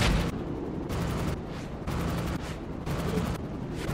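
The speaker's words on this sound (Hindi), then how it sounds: "बार बार जो फायर हो रहा है" Rapid bursts of gunfire in a video game, loud and close, coming in repeated volleys of roughly half a second with short gaps between them, over a steady low rumble and with no talking.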